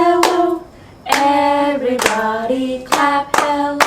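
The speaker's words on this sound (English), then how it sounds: "Everybody clap hello, clap hello," Hands clap sharply to the beat of a children's storytime hello song, with a handful of crisp claps spaced over a clear singing voice.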